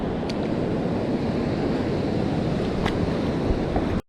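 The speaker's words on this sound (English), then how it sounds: "The wave action here is much better" Ocean waves wash steadily over a rocky shore near deeper water as a loud, continuous broadband roar of surf, heard alone with some wind buffeting until it cuts off abruptly.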